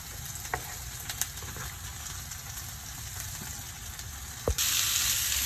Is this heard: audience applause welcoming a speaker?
no